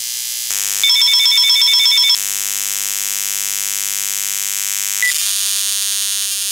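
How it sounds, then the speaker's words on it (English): Electromagnetic emissions from a wireless home phone rendered as sound: a steady electronic buzz with harmonic tones, a pulsing chirpy burst of beeps for over a second, then a continuous hum and a brief click-like change near the end, with no talk. "Let's hear what it sounds like from the wireless home phone."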